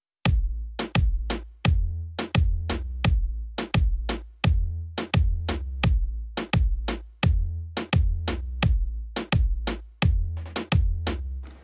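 Layered kick and snare drum beat programmed in FL Studio for a reggaeton-style track: punchy booming kicks and sharp snares repeat in a steady, loud loop with no voices.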